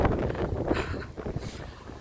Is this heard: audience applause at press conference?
no